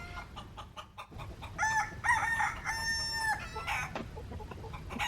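Chickens in a chicken yard cluck close by while a rooster crows loudly in the middle, with busy clucking and squawks around it.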